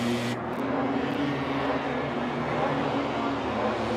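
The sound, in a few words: MotoGP bike engines being fired up in pit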